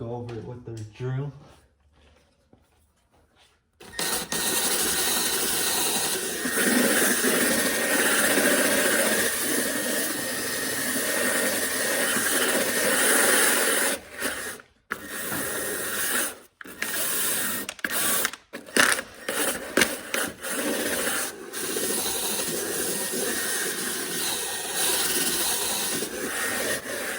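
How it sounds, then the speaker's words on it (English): After a short quiet lead-in, a power drill spinning a scrub brush with soap over car interior upholstery grinds and rasps in long continuous bursts, stopping briefly several times. "go over it with the drill"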